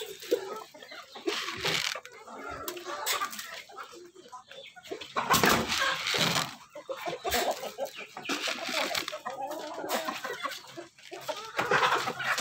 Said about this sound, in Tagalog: Punta sa mga inahin.